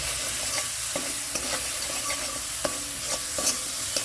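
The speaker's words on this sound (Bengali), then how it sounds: "নারকেলটা নাড়াচাড়া করে মিশিয়ে দিতে হবে।" A spoon stirs grated coconut through bitter gourd and pointed gourd in a hot pan, giving a loud, steady sizzle with repeated scraping strokes close by.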